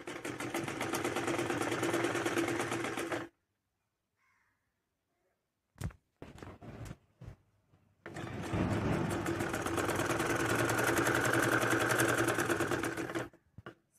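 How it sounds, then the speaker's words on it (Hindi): A sewing machine runs long, steady bursts of loose basting stitches through cloth for a garment sleeve, with a pause and a few short clicks between two extended loud runs. "अभी इस पे बड़े टाके से सिलाई लगा देंगे।"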